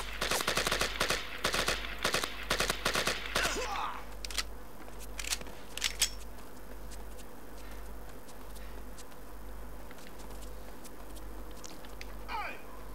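Rapid bursts of AK-47 automatic fire in the Project IGI shooter, clustered loud volleys in the opening seconds, then scattered single shots and quieter distant fire over a steady game ambience.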